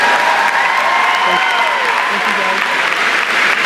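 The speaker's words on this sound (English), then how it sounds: "let's give these guys a huge round of applause." A graduation audience claps in a loud, dense wash of applause that holds steady for a few seconds, with a voice briefly heard over it.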